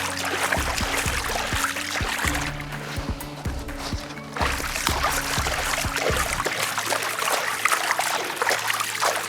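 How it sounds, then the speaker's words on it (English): Creek water splashes and trickles steadily into the mouth of a net used to collect river herring, with continuous watery rushing and occasional thumps and knocks from handling the gear. "So you can use creek water for this. You just give it a good splash."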